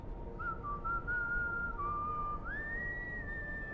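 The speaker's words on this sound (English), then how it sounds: "He is whistling." A game character in Final Fantasy XIV whistles a steady, wavering tune with a clear pitch jump near the end, heard alone over a low, constant background rumble.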